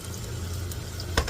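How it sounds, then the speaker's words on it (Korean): Water poured into a pan of stir-fried kimchi sizzles in a steady hiss over a low hum, with a brief clink of utensil near the end. "물을 살짝 넣습니다."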